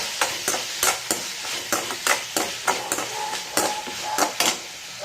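Tomato, onion and coriander being sautéed in a pan, a spoon striking and scraping the metal in a quick, irregular rhythm of sharp clanks over a soft, steady sizzle, close up and with no voices.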